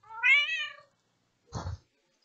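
A cat gives one clear, rising meow, then after a short pause a second, shorter, rougher meow, both close and fairly quiet.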